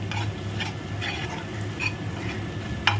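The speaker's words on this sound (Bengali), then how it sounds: "একটু রসুন, একটু তোমার কাঁচা লঙ্কা আর পেঁয়াজ দিয়ে একটু ভাজা ভাজা করে" Small local fish fry in a pan with garlic, green chili and onion, a soft steady sizzle under scraping stirs and a few light clinks of utensil on metal.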